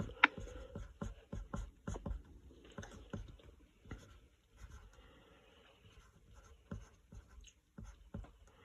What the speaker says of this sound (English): I'm just going to write it in my notes.